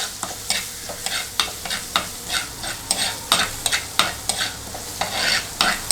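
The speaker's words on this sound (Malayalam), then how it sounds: "ഇതിട്ട് കൊടുത്ത് നന്നായി ഇളക്കി കൊടുക്കുക" Ginger, garlic and fennel paste stirred in a clay pot (manchatti) for chicken peralan, a steady run of scraping spoon strokes over a soft sizzle, repeated every half second or so, close and clear with no talking.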